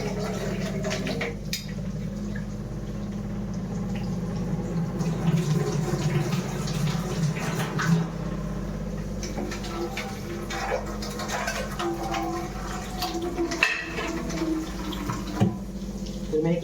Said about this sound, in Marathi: मी एक डाळ धुवून घेतोय